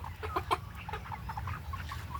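Domestic chickens clucking in a small flock, soft repeated clucks and short calls scattered irregularly over a low background hum, fairly faint and without talk.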